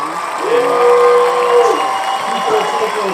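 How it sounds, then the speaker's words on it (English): A cheering crowd effect swells with applause and whoops during a live show, with a voice talking over it. "Let me give you a cheer effect."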